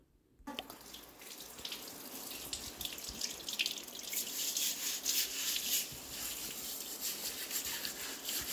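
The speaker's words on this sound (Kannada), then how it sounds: "ಆ್ಯಂಡ್ ಇದನ್ನು ಈಗ ನಾನು ಸ್ಕ್ರಬ್ಬರ್ನ ಯೂಸ್ ಮಾಡಿಬಿಟ್ಟು ವಾಶ್ ಮಾಡ್ಕೊಳ್ತಾ ಇದ್ದೀನಿ." A new stone mortar being scrubbed under running water, with a steady rush of water and gritty scrubbing that grow busier and louder, heard up close after a brief silence.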